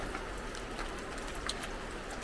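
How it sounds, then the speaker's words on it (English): Rain falling steadily at a mountain trailhead in the Catskills on a cold day, a continuous, fairly quiet hiss with scattered drop patters throughout. "It's currently raining."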